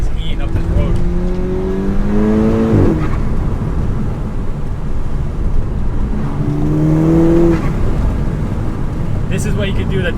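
A tuned 350 bhp Volkswagen GTI with nearly 200,000 miles climbs twice to redline, its rising engine note sweeping up loud and close before dropping off on overrun as the throttle is released.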